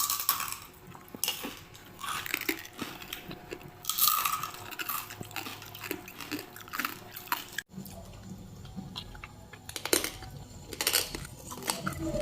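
Crisp tapping and crackling on grilled lechon pork belly skin after three hours on a gas range grill, a run of sharp brittle knocks with faint kitchen clatter around them.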